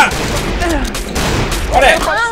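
Shotgun blasts in the survival horror game Cry of Fear, loud bursts over a noisy background with shouting and excited voices layered on top.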